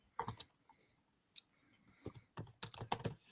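Keyboard typing during a podcast recording: scattered, quiet clusters of key taps separated by brief silences, with no voices over them.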